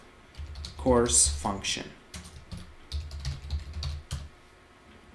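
Bursts of clicking keys on a computer keyboard while typing MATLAB code, close and rhythmic, with someone speaking briefly over the start.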